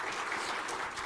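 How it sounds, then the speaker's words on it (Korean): A church congregation at a Sunday afternoon service claps in a brief, dense burst of applause, steady and fairly even for about a second with no voices over it. "박수 해주세요"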